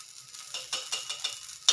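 Oil sizzling on a griddle over a high gas flame, a soft hissing fry with several quick scraping bursts close by, no one speaking.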